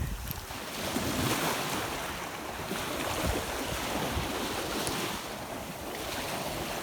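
Choppy ocean waves on a Captiva beach in Florida, a continuous rushing wash of surf with heavy wind buffeting the microphone, loud and close, with no talk.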